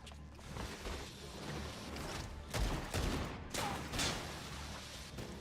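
Machinist gunfire in Final Fantasy XIV crackles in a few quick bursts with mechanical clicks, fairly quiet beneath a dense game soundscape.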